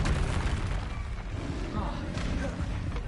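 A Confringo spell blast in the video game Hogwarts Legacy booms loudly, with a thick rumbling roar that fills the whole moment while a voice talks over it.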